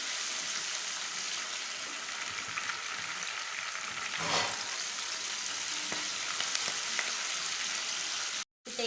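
Chicken frying in ghee for chicken ghee roast, a steady dense sizzle running throughout with a brief stir or splash partway and a momentary dropout near the end.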